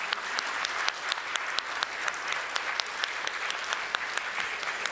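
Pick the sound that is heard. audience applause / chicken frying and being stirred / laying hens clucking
audience applause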